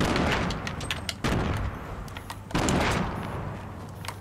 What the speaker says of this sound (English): So yeah, that's a grenade.